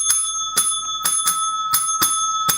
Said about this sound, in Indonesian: Mana lonceng kesenanganku guys ya.